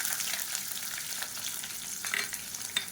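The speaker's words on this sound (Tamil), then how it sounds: "இதில் ஒரு 20 பல் பூண்டு சின்னதாக கட் பண்ணி வச்சுட்டு அதை சேர்த்துக்கலாம்" About twenty small cut garlic cloves frying in hot oil for curry leaf kuzhambu, a continuous bright sizzle and crackle close to the pan with light stirring scrapes, no talking.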